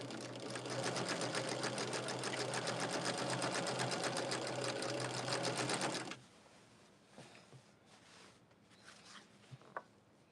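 A sewing machine chain pieces quilt blocks and sashing for a Shooting Stars quilt with a fast, even whirring run of about six seconds, close and clear, followed by quiet fabric handling and small clicks.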